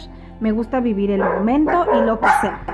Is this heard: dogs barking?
yes